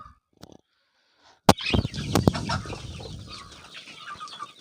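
Chickens cluck and scratch nearby after a quiet start, with a few sharp knocks and a burst of busy farmyard noise.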